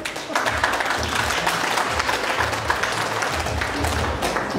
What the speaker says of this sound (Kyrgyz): Эсенова токтогон айым келатат, кол чабуулар.